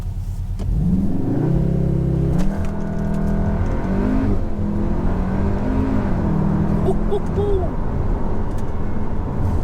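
A 2022 Cupra Formentor revs up and launches hard with launch control, pitch climbing through several quick gear shifts, loud and close throughout.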